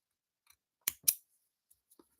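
Scissors snip through wool yarn during crochet work, giving two quick, close cuts in a row near a quiet setting, followed by a few faint handling ticks.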